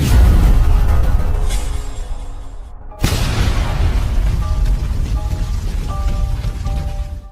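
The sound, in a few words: explosion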